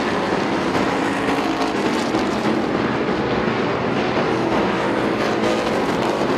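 Race cars lap the Speedzone track in a continuous loud roar of engines, overlapping cars passing close with no break and no voices.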